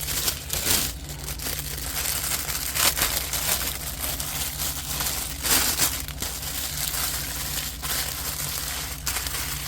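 Crinkling and crumpling from a custom finish-and-seal job, continuous and fairly close, with irregular bursts of crackle over a steady low hum and no talking.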